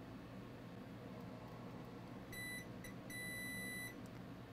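A multimeter gives its continuity beep as the probes find a short on a faulty Asus ROG gaming laptop board. Two short, steady high tones sound over a low constant hum, with no talking.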